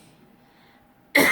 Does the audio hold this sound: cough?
yes